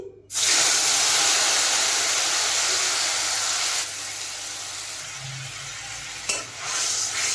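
Water-thinned turmeric and Kashmiri chili paste hits hot oil in a pan for a potol chingri dish and sets off a loud, steady sizzle, which drops back partway through as stirring scrapes faintly beneath it.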